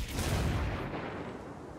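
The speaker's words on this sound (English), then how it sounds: "Somebody throw a nade right there behind you." A grenade explosion in a shooter video game booms at the start and rumbles away into a fading low roar over less than two seconds.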